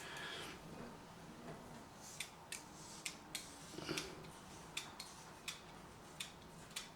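A bald head being shaved with a Gillette Proglide razor gives a faint, steady hiss punctuated by about ten sharp, quiet clicks or ticks at irregular intervals, close up with no talking.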